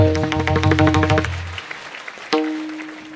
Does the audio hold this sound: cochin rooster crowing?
no